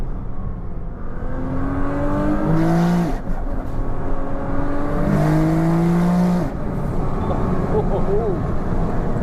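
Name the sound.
2000hp Nissan GTR engine revving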